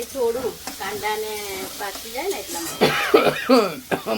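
A person coughs a few times while cooking paneer bhurji, harsh bursts breaking through a voice talking, with faint stirring and sizzling of the pan in the background.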